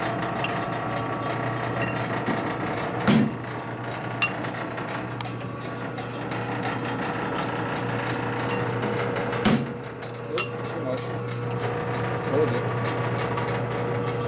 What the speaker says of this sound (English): it's hard to be gentle with a lead. I mean, with a very heavy hammer.